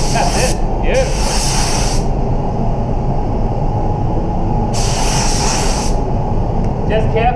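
A spray gun lays clear coat over base coat in a paint booth, giving a steady loud hiss in two long bursts separated by a quieter gap, with a short spurt at the end.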